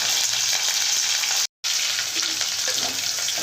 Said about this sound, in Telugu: కొద్దిగా కరివేపాకు కాసేపు మగ్గనిద్దామండి